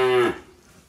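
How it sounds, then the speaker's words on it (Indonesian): A six-month-old male Limousin bull calf, dark red in colour, gives one short, close moo that fades quickly into quiet. "Di sini ada pedetan jantan usia 6 bulanan, limosin super,"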